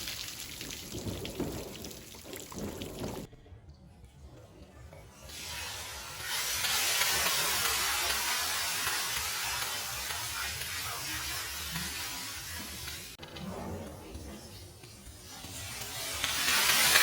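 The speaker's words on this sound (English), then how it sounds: "with all that water draining off of the top here" Rainwater runs and splashes off the top of a boat canopy in wet weather, a steady broadband patter and trickle that swells louder midway, with a quieter, thinner stretch before it and a heavier surge at the end.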